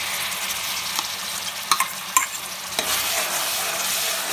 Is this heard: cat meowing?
no